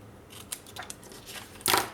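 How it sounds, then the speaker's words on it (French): Scissors snipping off excess paper during a scrapbook page project, a few quiet close cuts followed by a sharper, louder snip near the end, with no talking. "Je vais couper aussi l'excédent que j'ai ici."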